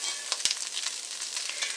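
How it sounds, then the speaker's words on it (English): Chili seasonings sizzling in a hot pan give a steady, close frying hiss with a few small pops and crackles throughout. "And you can hear that sizzle."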